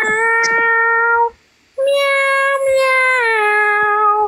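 A person imitates a cat meow during a live stream, drawing out two long, loud, wavering meows one after the other with a short pause between them, sounding close and clear.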